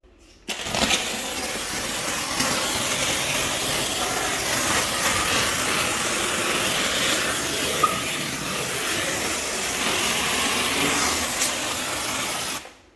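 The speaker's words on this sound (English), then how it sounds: "we are gonna start steaming and disinfecting all the bathroom fixtures" A dry vapor steam cleaner steaming bathroom fixtures gives a loud, continuous hiss that starts abruptly and holds steady, with a few small bursts, then cuts off at the end.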